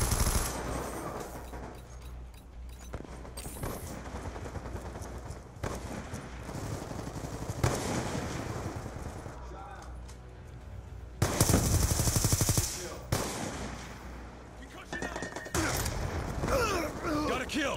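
Light machine gun fire in the video game Black Ops 2, with long rattling bursts and sustained firing over a noisy battlefield, plus a loud burst near the end.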